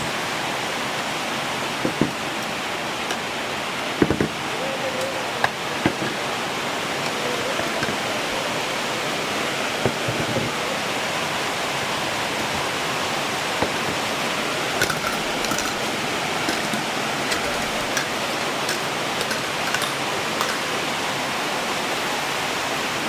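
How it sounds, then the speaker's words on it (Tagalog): Heavy rain pours steadily outdoors, a dense continuous hiss with occasional louder drips and taps scattered through it, no talking. "Grabe kakusog sa ulan"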